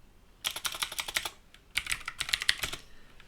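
Rapid clicking of computer keyboard keys while C# code is typed, two close, loud bursts of keystrokes separated by a brief pause, with no talking.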